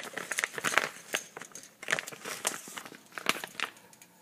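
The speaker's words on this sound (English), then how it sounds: "it ships in a plastic bag, which I've already opened to save some time for this review." A plastic shipping bag crinkles steadily while being handled close to the microphone, dense rustling with sharper crackles scattered throughout and no talking.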